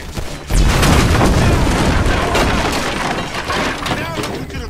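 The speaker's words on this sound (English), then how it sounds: "Shoot that gas can." A gas can shot and exploding in Grand Theft Auto V on PlayStation 4: a sudden heavy boom bursts out and rolls into a long crackling, debris-filled rumble that slowly fades.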